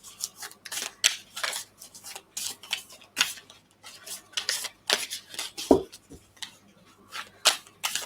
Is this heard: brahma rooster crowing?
no